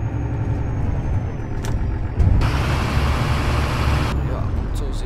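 A Mercedes Citaro bus engine in the video game OMSI 2 rumbles steadily at idle, joined midway by a loud broadband hiss like an air brake release, with a few clicks.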